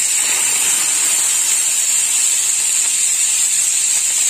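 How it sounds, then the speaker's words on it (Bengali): Onion paste frying in hot oil with five-spice tempering for a vegetable chorchori, heard as a constant, even, hissing sizzle close by with no breaks and no talk. "দিয়ে দিলাম পেঁয়াজ বাটা, আর পেঁয়াজটা একটু লাল লাল করে ভাজা হবে।"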